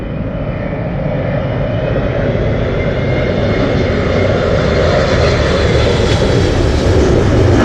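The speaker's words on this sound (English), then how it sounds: "United Airlines Boeing 777 was the Star Alliance livery." A United Airlines Boeing 777 in Star Alliance livery comes in to land at Heathrow, its engines roaring loud and steady as the whine slowly rises and swells nearer, with no voices.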